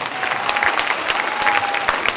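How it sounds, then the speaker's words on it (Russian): Applause from a live concert audience honoring a song's author, steady dense clapping filling the room throughout, with a faint sustained tone running beneath it. "Поаплодируйте, пожалуйста, автору этой песни."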